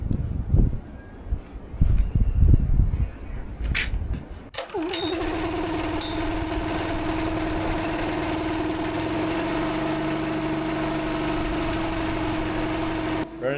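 A small pull-start engine, fitted with a decompression valve and run on choke, fires up after a few seconds of handling noise, then settles into a steady, loud, close idle for the rest of the clip.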